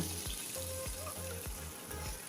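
Potatoes sauté in a pan with a faint, steady sizzle, broken by a few regular scraping stirs, close by but quiet and without talk.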